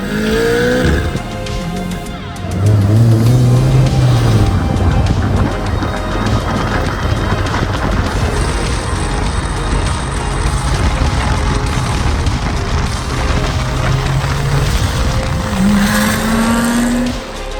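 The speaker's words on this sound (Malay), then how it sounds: "Ini kereta saya, Mitsubishi Evo." A Mitsubishi Evo 9 engine revs and runs loudly and close, its pitch rising and falling through gear changes with a final climbing rev, no talk.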